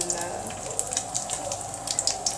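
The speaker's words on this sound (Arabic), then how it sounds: "الميه بتغلي كده" Okra simmers in a pot of boiling water, giving a steady, close bubbling with scattered small pops and splashes throughout.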